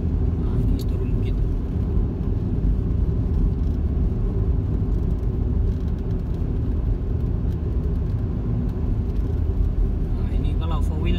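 A four-wheel drive vehicle rolls downhill on a long rural hill road in Sabah, with a steady low engine and road rumble throughout, close and continuous, and people talking inside.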